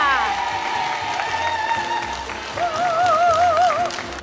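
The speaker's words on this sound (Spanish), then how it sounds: "Un aplauso al espárrago de Granada" A crowd in Granada applauds the local asparagus on an Andalusian regional TV program, a steady wash of clapping that runs throughout while voices talk over it.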